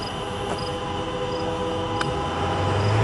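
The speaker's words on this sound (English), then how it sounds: "Come on, train." A CN local freight train with double-stack cars passes at a distance, heard as a steady rumble and rolling noise that stays constant throughout.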